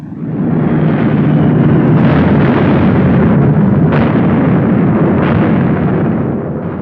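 Heavy, sustained rumbling barrage of bomb explosions as Luftwaffe aircraft pound Stalingrad, with repeated louder bursts swelling out of a continuous roar, no voices.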